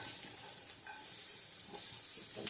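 Chopped garlic sizzles in a small amount of hot oil while a sauté with ketchup and soy sauce is being cooked, giving a steady, soft hiss that carries on throughout with no talking.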